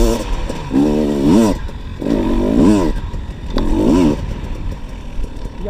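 A KTM EXC250TPI two-stroke enduro motorcycle revs close by in three swelling bursts that rise and fall, with a short blip near the end. Rough clattering noise runs underneath, and no one speaks.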